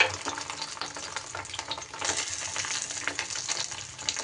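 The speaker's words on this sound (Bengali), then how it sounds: "লো ফ্লেমে এদিকটাও কিন্তু ওরকম সুন্দর করে ভেজে নিতে হবে।" Fish roe frying in mustard oil over a low flame, a continuous gentle crackling sizzle that swells slightly midway and holds steady, close and moderately quiet.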